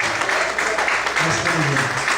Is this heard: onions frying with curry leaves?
no